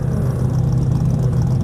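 Race car engine held at full throttle on nitrous at a drag racing shootout, a loud, steady, deep droning roar with no letup, close by and alone.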